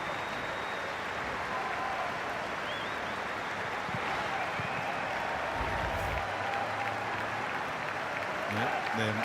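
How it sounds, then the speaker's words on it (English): A football stadium crowd applauds a player at an A-League match between Brisbane Roar and Adelaide United, a broad, steady wash of clapping and crowd noise lasting throughout, with a commentator's voice over it. "And Boland takes his applause."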